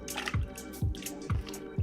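Water drips during a pottery wheel demonstration, four evenly spaced plops about half a second apart, close and fairly soft over a low background hum.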